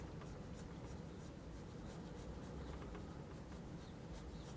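Pencil or pen scratching on paper while eyes are sketched onto a character head, a steady soft rhythmic scribbling close to the microphone with repeated short strokes and no talking.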